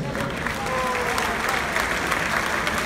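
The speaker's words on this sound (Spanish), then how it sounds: "el aplauso muy fuerte para todas ellas" Steady applause from an audience at a PRI party leadership swearing-in ceremony in Mexico, a dense, even wash of clapping with crowd murmur that holds for the whole stretch.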